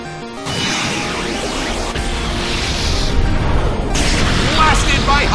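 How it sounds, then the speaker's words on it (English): A Hyper Beam attack from the video game Pokémon Battle Revolution lands as a loud, sustained booming blast with crashing impacts. It swells again near the end, and a commentator talks over it. "Blasted by Hyper Beam."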